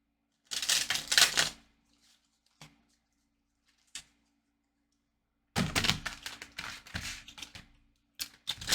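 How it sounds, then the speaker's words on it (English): A tarot card deck is shuffled in a few bursts of rapid riffling and flapping of cards, loud and close, separated by pauses with a couple of isolated taps. "Let me shuffle this deck real quick."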